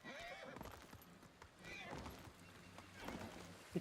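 Horse neighing and hooves clip-clopping in Ghost of Tsushima, a whinny rising early on and hoof beats running through a noisy game mix, with voices talking over it.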